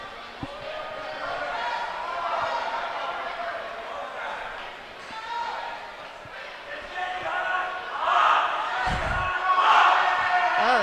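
Crowd at a club swim meet at NC State cheering and shouting in an echoing indoor pool hall, a dense roar of many voices that swells louder toward the end, with a sharp thud partway through.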